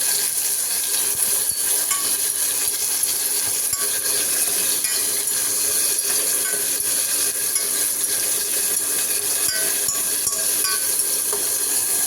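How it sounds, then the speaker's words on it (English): Poha with green chili being stirred in a pan, with steady scraping and faint sizzling, close and continuous, with no talk. "Now I should mix it up properly."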